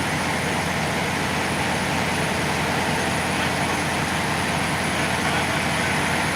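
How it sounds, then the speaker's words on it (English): A Cummins diesel engine in a truck parked close by runs continuously, a loud, dense, unchanging drone with no breaks. "We got a Cummins, so excuse his noise."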